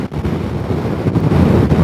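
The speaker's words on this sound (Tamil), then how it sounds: "மலையில் சரியான காற்றுங்க, சரியான காற்று, சின்ன காற்று இல்லை, பயங்கரமான காற்று." Strong mountain wind in the high Himalayan terrain of Leh, Ladakh, roaring steadily and loudly across the microphone in a dense, buffeting rush with no voices.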